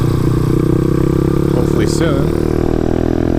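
A motorcycle engine fitted with a 34mm carburetor runs steadily close by, a continuous mid-pitched drone under a voice.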